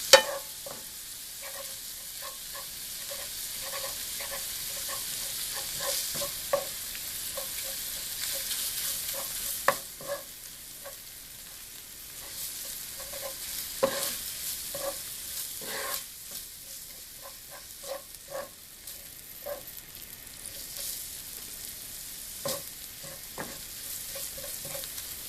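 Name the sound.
stirring ground meat frying in a pan for mapo tofu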